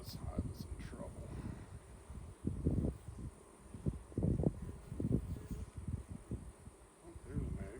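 Bees buzz in a beehive opened for inspection, a faint, low hum with intermittent bursts of rustling and handling noise close by.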